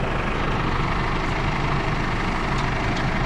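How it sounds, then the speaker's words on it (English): A small, agile dairy-farm tractor's diesel engine idles steadily nearby, a continuous low rumbling drone with no voices. "He's a smart tractor, he is."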